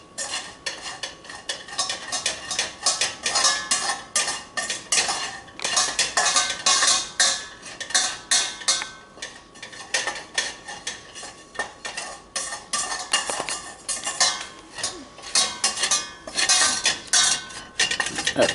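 A utensil scrapes and clinks steadily against a pan while flour and fat are stirred together into a roux for vegetarian dirty rice, a busy continuous scraping rhythm throughout with no talk.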